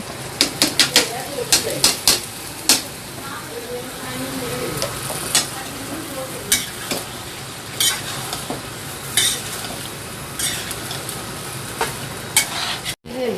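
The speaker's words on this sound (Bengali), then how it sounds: "এই যে মাথাটা এখন দিয়ে দিব মশলার মধ্যে। আমার মশলা কষানো হয়ে গিয়েছে, তার সাথে বিচিটাও একসাথে কষিয়ে নিব।" Fish head and cooked spices are stir-fried together in a pan, giving close, continuous sizzling with repeated sharp scrapes and clinks of the spatula. A person talks over the frying.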